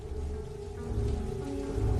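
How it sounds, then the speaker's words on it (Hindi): Continuous rain falls steadily as an even, dense hiss with a low rumble underneath, unbroken and alone for the whole stretch. "इसके बाद कुछ देर सिर्फ लगातार बारिश की आवाज के अलावा कुछ सुनाई नहीं दिया।"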